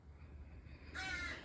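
A crow that expects to be fed gives a single hoarse caw late in a quiet outdoor moment, fairly close and clear above low background noise.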